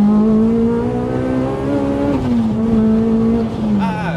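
Supercharged Honda Civic Type R EP3 with a Rotrex supercharger driving hard, its engine droning steadily close up with rising and falling pitch through gear changes, a brief shift dip near the end, loud throughout.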